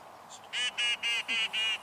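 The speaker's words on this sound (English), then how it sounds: "there's a duck call" Duck call blown at a retriever hunt test: a short faint note, then five loud, evenly spaced nasal quacks in a steady rhythm, close and clear with no talk.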